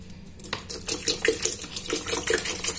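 Water poured into a blended fruit purée for homemade juice, splashing and gurgling in uneven bursts, close and fairly loud with no talk.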